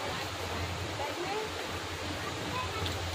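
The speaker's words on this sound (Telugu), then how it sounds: "Dudhsagar water falls" Dudhsagar waterfall in Goa roaring as a continuous broad rushing wash of falling water, steady and unbroken throughout.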